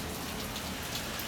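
Steady rain from Hurricane Hilary, a tropical storm passing over San Diego, falls as a constant hiss of drops on surfaces, an even wash of sound with no breaks and no voices.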